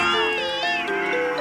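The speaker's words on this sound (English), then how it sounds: "Brian walked on the street and heard a cat meowing beside him" Cartoon cat meowing in a cat cafe, a loud drawn-out wavering meow filling the short moment, up close.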